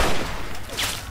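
Gunfire in Fallout 3 as the player aims for headshots against super mutants: a burst of loud, close shots packed into about a second, with no talk.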